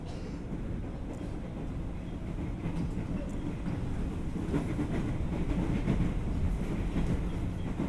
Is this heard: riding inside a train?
yes